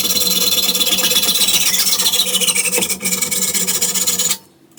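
A file rasps steadily across a mountain bike downtube while a miter is cut, close and loud with rapid repeated strokes for about four seconds before stopping abruptly.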